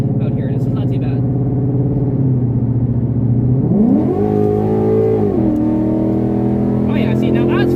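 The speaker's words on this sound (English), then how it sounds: "Oh yeah, see, now that's full throttle," A 2014 Ford Mustang GT engine pulled hard at full throttle, a loud, close V8 roar climbing steadily in pitch, briefly dipping with a gear change, then holding a high, strained drone before easing off.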